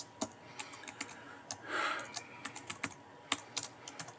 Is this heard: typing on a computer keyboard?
yes